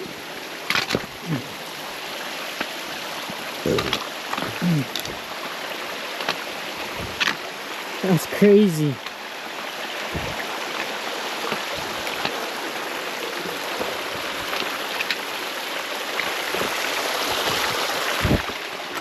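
Water streams down a rocky Appalachian Trail section in New Hampshire's Franconia area, a constant rushing wash that swells slightly over time, with scattered footsteps and a brief spoken remark on top.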